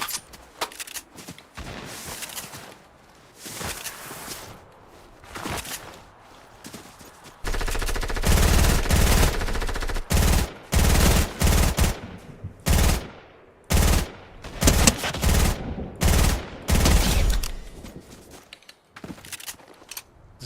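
Video game gunfire crackles in repeated loud bursts and rapid automatic volleys, sparse at first and then dense and sustained, close and dominant with no talking.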